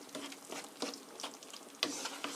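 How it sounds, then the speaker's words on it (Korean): Penne in tomato sauce stirred and fried in a pan, giving a soft, faint sizzle with intermittent scraping and clacking strokes at an irregular rhythm. "3 minute 3분간 볶아주세요."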